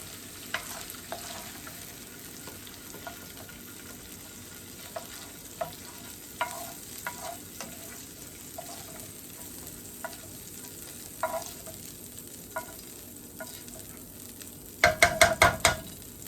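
Shrimp frying in a pan with cabbage and sausage, a soft continuous sizzle under sparse scattered scrape clicks, ending with a quick cluster of louder metallic knocks close by.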